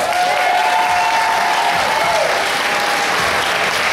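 An audience at a martial arts Hall of Fame induction gives a full round of applause, continuous loud clapping with faint whistles rising briefly above the crowd.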